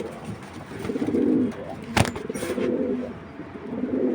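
Club pigeons coo in a loft, repeated soft throaty rolling calls close by, with a sharp knock midway.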